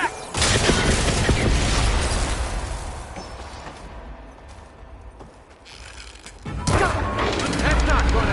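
Dense, loud weapon fire and impacts in the video game Horizon Forbidden West, aimed at the couplings on a machine's arms. The shots run almost continuously, dip in the middle and then surge again, with voices talking throughout.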